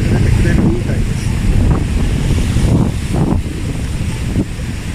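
Strong wind and surf batter Futamigaura on the Fukuoka coast as Typhoon No. 25 approaches, a loud, steady roar of gusting wind buffeting the microphone over crashing waves.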